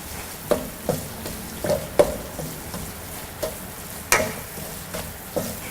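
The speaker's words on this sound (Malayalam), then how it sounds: "ഇതിലോട്ട് നമ്മൾ എടുത്തു വച്ചിരിക്കുന്ന മല്ലിയിലിട്ട് മിക്സ് ചെയ്യുക" Coriander leaves stirred into cooked-down tomato masala in a pan for a quail roast, with a spoon scraping and tapping the pan in repeated strokes over a faint sizzle, no speech.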